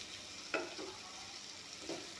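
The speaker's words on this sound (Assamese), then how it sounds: "এয়া চাওক ধুনীয়াকৈ ভাজি ল'লোঁ জিৰাৰ গুড়াখিনি দি অলপমান পনীৰখিনি" Paneer fries in a pan with cumin powder, giving a soft, steady sizzle. A few brief stirring scrapes and clinks rise above it, with no talking.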